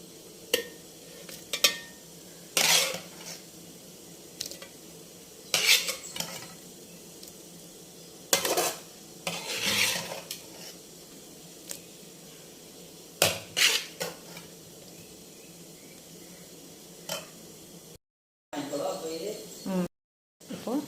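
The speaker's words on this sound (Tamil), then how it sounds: "அதை மிக்சி ஜாருக்கு மாற்றிக்கலாம்" Cooked onion chutney mixture of onion, tomato, garlic, chilli and tamarind is scooped from a pan into a mixer jar, with scattered clinks and scrapes of a spoon against metal, some louder, amid quiet pauses and occasional voice.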